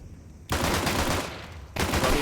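Rapid bursts of rifle fire in a Counter-Strike pro match between Flamengo and RED Canids, loud and dense, in two sustained volleys broken by a short gap, with faint caster talk beneath.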